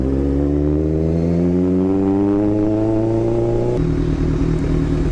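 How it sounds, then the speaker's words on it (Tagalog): A loud carbureted motorcycle engine revving at close range, its pitch climbing steadily before dropping abruptly back to a rough, clattering idle. "Medyo maingay ang aking motor."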